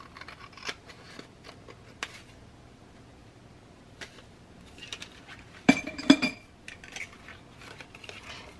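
Scissors trim a printed paper sewing pattern for a swing pocket closure, giving a few faint snips and then a brief louder cluster of sharp clicks and metallic clinks near the end.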